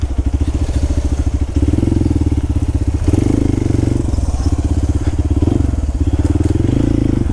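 A motorcycle engine on an off-road ride through Perandapalli forest in Tamil Nadu chugs loud and close in a fast, steady pulsing rhythm, its tone shifting slightly as the throttle changes.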